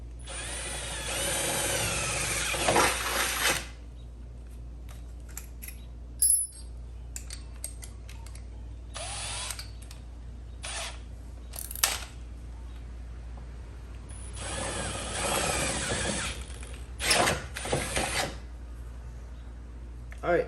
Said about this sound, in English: now that that's drilled out fully